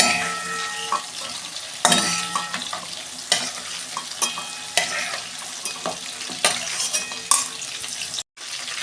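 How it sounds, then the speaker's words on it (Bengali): Vegetables for fried rice stir-fried in a pan, continuous close sizzling with regular spatula scrapes and knocks every second or so, alone without speech. "এই যে রাইসের জন্য আমি এইগুলো ভেজে নিচ্ছি সবজিগুলো।"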